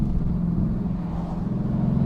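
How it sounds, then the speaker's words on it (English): Twin-turbo 4-liter AMG V8 car accelerating up a freeway on-ramp, heard from inside as a steady, loud low engine drone that holds throughout without pause. "I love hearing the turbos. This is a twin turbo, 4-liter V8 from AMG"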